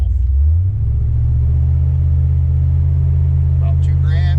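A 1975 Plymouth Duster's Slant 6 engine revs loud and close during a foot-brake burnout, its deep, steady drone holding high throughout, with a brief voice near the end.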